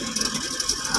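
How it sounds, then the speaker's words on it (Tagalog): A noisy electric fan running with a steady whirring hum broken by a fast, regular ratcheting rattle, close and fairly loud, with no talk. "Maingay yung electric fan natin guys."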